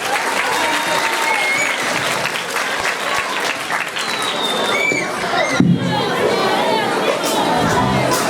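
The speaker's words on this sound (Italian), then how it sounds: "Un applauso a Giorgia." Audience at a children's festival in Sardinia applauding a young singer, loud dense clapping with cheers and children's shouts, crowd chatter underneath throughout.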